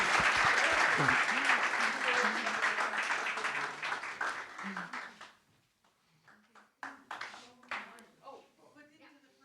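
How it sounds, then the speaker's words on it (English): Applause fills the hall at the WOIC 2025 academic awards session as diplomas are handed out, a thick wash of clapping that fades after about five seconds into scattered claps and nearby voices. "A little bit more of clapping when we get the chance."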